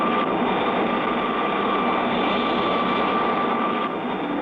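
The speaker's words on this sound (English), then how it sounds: "The second second stage drops clear, and the third stage rockets light up." A cartoon rocket's third-stage engines fire as a loud, continuous roaring rush that holds steady from start to finish, with no voices over it.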